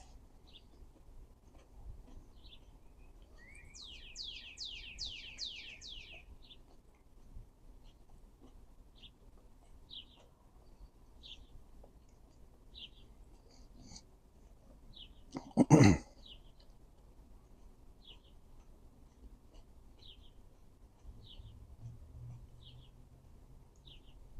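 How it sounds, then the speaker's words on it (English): Birds sing outdoors in short, faint, repeated chirps and a brief trill, heard with soft background noise during a hot pepper tasting, interrupted midway by a single loud close cough or throat-clearing. "I got the birds out here serenading me."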